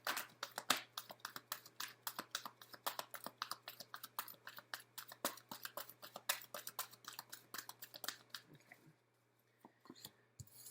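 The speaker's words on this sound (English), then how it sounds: "let's do a couple more shuffles" Tarot cards are shuffled close by, making quiet, rapid clicking and flicking sounds that run steadily before stopping near the end.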